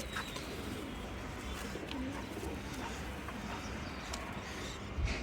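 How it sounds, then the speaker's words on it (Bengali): Soft, low pigeon cooing from a pure-bred pigeon, under a steady, noisy background with faint clicks, fairly distant and continuous. "একটা অনেক সুন্দর কবুতর এটা"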